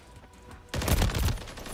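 Loud gunfire from the shooter video game Call of Duty: Modern Warfare III erupts suddenly after a quieter moment and continues as a dense, rattling volley of shots for the rest of the moment.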